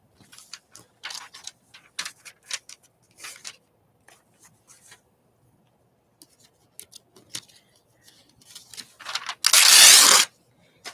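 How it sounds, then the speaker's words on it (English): Magazine paper trimmed with a paper cutter: scattered sharp clicks and short scraping snips at close range, ending in a louder sustained slicing rasp, with quiet gaps between and no talking. "Trim that up with a paper cutter."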